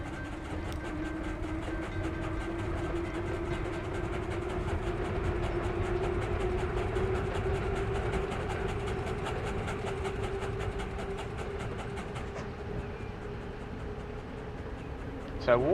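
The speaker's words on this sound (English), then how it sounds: "We've got trains everywhere at the moment." Steam trains in the game Transport Fever 2 run steadily throughout, with a continuous rolling rumble, rhythmic clickety-clack of wheels and a sustained tonal hum, loud and close, with a brief rise at the very end.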